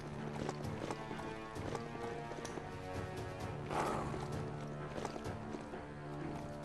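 Riding-mount footsteps in the video game Biomutant, rhythmic hoof-like clip-clop steps repeating steadily over game ambience and a faint musical backdrop, fairly quiet.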